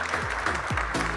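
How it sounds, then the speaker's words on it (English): Audience clapping for panelists at a New York business summit, a brief dense burst of applause filling the hall, with voices heard over it. "A round of applause for our great panelists here."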